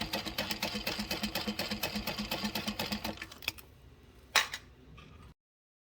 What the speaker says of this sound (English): Okay, and then we can baste both of those on.